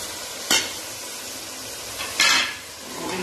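A spoon scrapes and clinks as potatoes and peas are mixed with salt, chilli, dried coriander and turmeric in a pan, two distinct stirring scrapes over a faint steady background.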